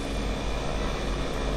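A fixed-wing aeroplane in flight gives a steady, loud, broadband engine and airflow roar that holds constant throughout, with no voices over it.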